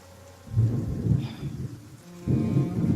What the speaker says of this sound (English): Man, that thunder is really adding to the ambiance.